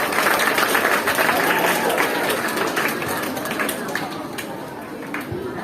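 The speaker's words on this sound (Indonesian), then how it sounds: "Tepuk tangan." A crowd at a national Bible study gathering applauds, with dense, steady clapping that fades slightly toward the end, with some voices mixed in.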